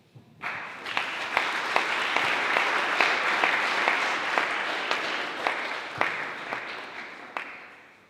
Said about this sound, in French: Applaudissons-lui encore une fois.